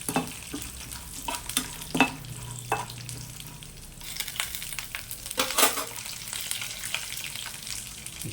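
Peanuts and roasted chana dal frying in a pan, a continuous sizzle broken by scraping stirs and light clinks of a utensil against the metal.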